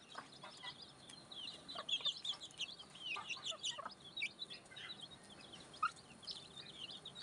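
Newly hatched F1 jungle fowl chicks peep and cluck in a brood of thirteen, with a busy stream of high, thin chirps overlapping close by throughout and one sharper peep standing out near the end.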